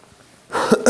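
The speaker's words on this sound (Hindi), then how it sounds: "मौसम ऐसा ही चल रहा है, खांसी हो रही है" A teacher coughs twice, loud and close, after a quiet moment in a classroom-style lesson.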